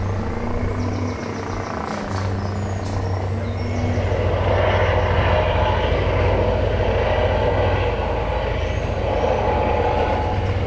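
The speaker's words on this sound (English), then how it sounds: "A helicopter loudly circles the town for a bit." A helicopter circles low over a town with a loud, continuous droning rumble and steady rotor hum that swells slightly midway, filling the scene without any talking.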